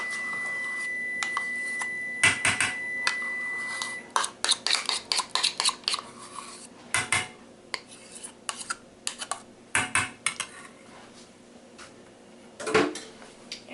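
A cup of mayonnaise being spooned into a tomato soup mixture in a bowl: metal utensils clink and scrape against the dish in uneven taps, with a steady faint tone underneath early on.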